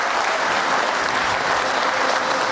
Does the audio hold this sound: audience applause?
yes